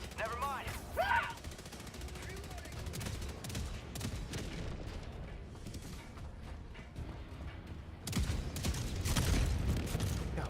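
Gunfire in the shooter Helldivers 2 rattles on through the whole stretch in rapid, dense bursts, with a louder surge near the end and a person's voice briefly in the mix.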